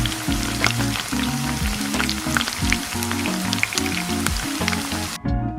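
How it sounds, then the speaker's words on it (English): Momo chutney frying in a pan, a steady soft crackling sizzle that runs almost the whole time under prominent background music, then ends abruptly near the close. "Fry it for a minute and then add some water."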